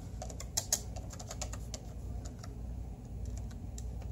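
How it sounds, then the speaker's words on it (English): An IBM ThinkPad 760 laptop keyboard with leaked-battery damage is typed on, giving irregular clicky keystrokes, close and moderately loud over a low steady hum. "Let's try to type something in."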